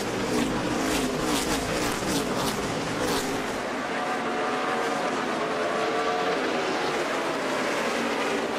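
NASCAR stock cars roar around the short track at Bristol on the final lap of a night race, with dense, continuous engine noise and crowd wash that stay loud throughout while a commentator talks over it.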